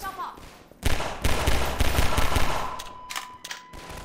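Loud, rapid gunshots crack out in Half-Life 2, firing in a close cluster of bursts before tapering into a few scattered shots near the end.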